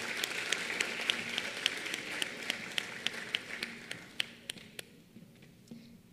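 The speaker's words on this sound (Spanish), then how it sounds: "Fuerte aplauso." Applause from an awards audience at a dental aesthetics congress honouring a dentists' association, a dense wash of clapping with a few sharp individual claps standing out, fading away over the last second or two.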